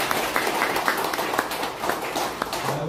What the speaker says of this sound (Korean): 10년간 기자의 용기와 노력에 뜨거운 박수 부탁드리겠습니다